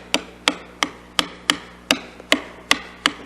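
A narrow chisel is tapped into wood to cut dovetail tails, giving nine sharp, evenly spaced knocks about a third of a second apart, each close and crisp with a quick decay.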